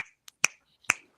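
Sharp finger snaps, one faint and two crisp and close, spaced about half a second apart with silence between and no talking.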